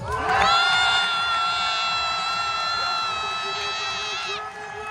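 A crowd at an equestrian show cheers loudly for the black and red team in an applause contest. Shrill shouts and sustained whoops, many from children, swell at the start and carry on until they drop off near the end.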